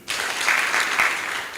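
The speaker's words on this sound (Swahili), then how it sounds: "mujipigie makofi" Audience applause at a ward candidates' debate, a crowd clapping steadily at moderate loudness for over a second, with no talk over it.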